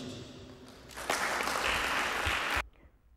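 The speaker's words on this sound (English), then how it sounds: "it is important that we give the university an applause for such an initiative" Steady applause rises and holds for about two seconds at a Cavendish University Zambia event, then cuts off abruptly, over a busy background murmur.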